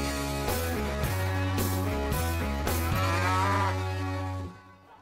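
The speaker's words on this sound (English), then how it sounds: "There's a cow, but no ducks." A cow at a petting zoo lets out several loud, drawn-out moos in close succession, each low and sustained, with no talking over them before the sound tapers off at the end.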